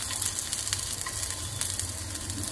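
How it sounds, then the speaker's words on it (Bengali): Chopped garlic sizzling in hot oil with cumin, dried curry leaves and ginger for radish paratha filling, a steady close crackle and hiss with a low hum beneath, no talk. "এবার কুচনো রসুন দিয়ে দিচ্ছি।"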